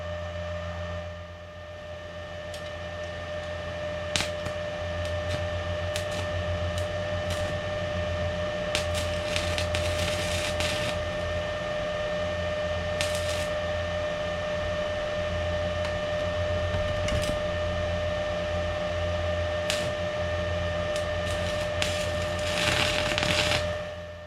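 Welding during an LS V8 engine swap into an MGB gives off a steady sizzling crackle with a constant electrical hum underneath, interrupted by sharp pops and short spitting bursts.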